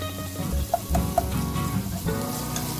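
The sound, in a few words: ginger-garlic paste frying with chicken gizzards and liver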